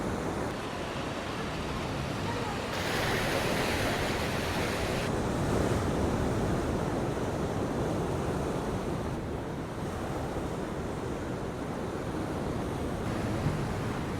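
Waves wash continuously over a pebbly beach at Cala Sant Vicenç in Mallorca, a dense, steady roar of surf and rolling stones with wind noise on the microphone.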